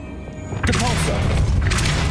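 The Depulso spell goes off in Hogwarts Legacy: a quiet start breaks into a sudden booming burst with swirling, crackling energy that keeps rumbling loudly to the end.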